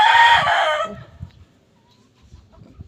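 A single rooster crow rings out close and loud, then fades into quiet with faint low rustling.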